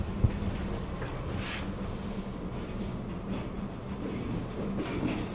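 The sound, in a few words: KRD diesel railcar train on the rails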